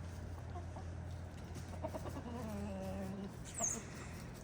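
Caroline the hen clucks after a fright, giving soft, close, uneven clucks and murmurs over a low steady background hum, with one brief sharper squawk near the end.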